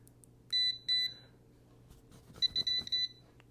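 A voltage pen tester emits short, sharp high-pitched beeps: two quick beeps, a pause with faint handling clicks, then a rapid run of four beeps, close and clear over a quiet background.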